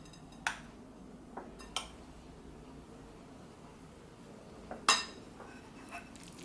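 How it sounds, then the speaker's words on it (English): A metal spoon clinks against a pot while cabbage and parsley are mixed in, a few sharp, scattered clinks over a quiet, faintly rustling background. "I'm going to switch to a spoon right now to mix the cabbage in and the parsley."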